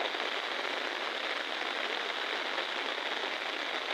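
Heavy rain pours onto water in a dense, continuous hiss, steady and loud from start to finish with no voices.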